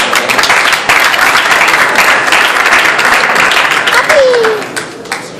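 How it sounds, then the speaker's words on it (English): A theater audience at a reunion gives dense, sustained applause with scattered cheers and voices, steady and loud throughout before tapering slightly at the end. "Please come cheer some more."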